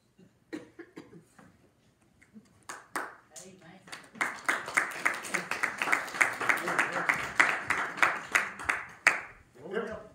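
Church congregation at a Baptist morning service breaking into clapping; scattered claps and coughs build into steady, fairly close applause that swells and holds.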